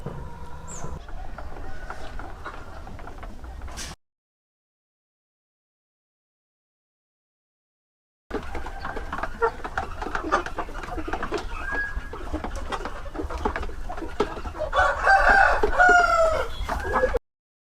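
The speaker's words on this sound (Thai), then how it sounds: "เดี๋ยวเดี๋ยวให้พี่พัชรพลพาไปชมฟาร์มไก่ข้างใน" Pradu Hang Dam chickens on a farm, with steady clucking from a flock close by and a loud rooster crow near the end, interrupted by a few seconds of silence.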